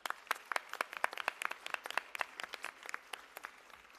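Scattered applause at a Bharatanatyam arangetram dance recital, individual claps sharp and distinct, fairly quiet and thinning toward the end.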